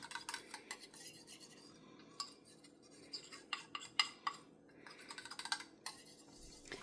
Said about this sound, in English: Stir that up. This is so we can get that flour good and mixed in.